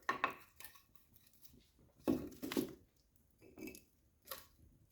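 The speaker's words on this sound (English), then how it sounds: "I'm gonna put some more wood on the fire." Logs being placed onto a home fireplace fire, with several knocking, clattering bursts of wood on wood and metal, spaced out with quiet pauses between, close by and moderately loud.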